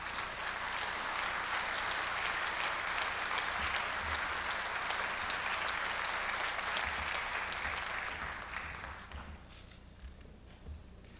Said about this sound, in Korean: 큰 박수로 무대 위로 모시겠습니다.